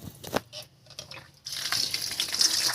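Water splashes and rinses over fresh coriander leaves in a kitchen, starting as a few soft patters and sloshes before a steady, close gush of running water takes over for the rest.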